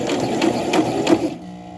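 A sewing machine stitches a small doll shirt in a quick, steady mechanical whir with rhythmic pulses, running alone and up close before stopping abruptly near the end.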